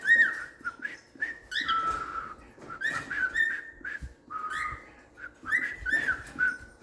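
A pet cockatiel whistles and sings in a series of bright, clear chirps and warbled phrases, close by and fairly quiet, with short pauses between bursts.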